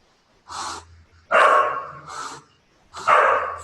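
A dog barking, four loud, close, separate barks in an uneven rhythm with short breathy gaps between them.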